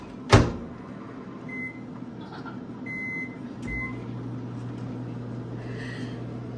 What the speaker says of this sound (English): We're gonna toss it in the microwave.